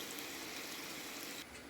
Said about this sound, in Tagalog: Tapos, lalagyan natin ng tubig.